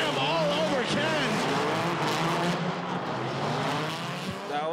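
Drift race cars at Irwindale, a V10 and a supercharged V8, roar continuously with rising and falling engine whine and tire squeal, loud and close throughout, while an announcer talks over the action.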